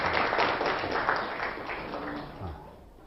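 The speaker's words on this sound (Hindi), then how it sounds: "चलो आधा ताली बजा दो" An audience breaks into brief, scattered clapping during a storytelling talk, loudest at the start and then fading away.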